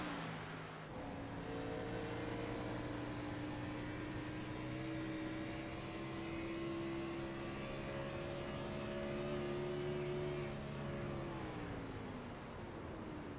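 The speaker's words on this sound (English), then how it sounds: "Pushing the clutch in, letting the revs go all the way down to virtually nothing" Race car engine in the iRacing video game, revs held high then falling smoothly as the clutch is pushed in, a steady whining engine tone sliding down to a low idle near the end.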